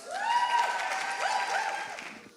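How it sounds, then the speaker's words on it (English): A burst of audience clapping mixed with high whooping cheers, lively and sustained before fading out. "Let's give her a round of applause."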